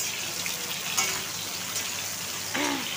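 Eggplant slices fry in hot oil in a pan, giving a steady close sizzle with a few soft clinks and stirring touches.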